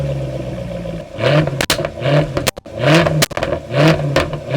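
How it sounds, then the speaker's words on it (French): A stationary Jaguar F-Type R, a 550 hp sports car with its engine already warm, is blipped repeatedly, each rev rising sharply and falling back, loud and close with crackling pops between bursts. "Donc je vais pouvoir vous montrer la sonorité déjà à l'arrêt, ce qui est déjà magnifique."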